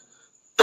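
A single short, sharp cough bursts out at the very end after near silence.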